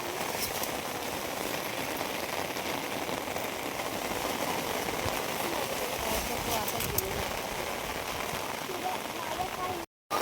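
Heavy monsoon rain in the Konkan pours down in a steady, dense hiss that holds unbroken before stopping abruptly at the very end.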